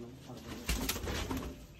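A caged pigeon coos softly in one short, low phrase, fairly faint against a quiet background, with no talk.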